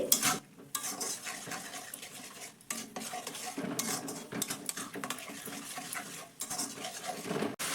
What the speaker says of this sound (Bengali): দিয়ে ভালো করে নাড়াচাড়া করে এই আমটাকে তেলের সঙ্গে একটু ভেজে নিতে হবে, ঠিক কষানোর মতো করে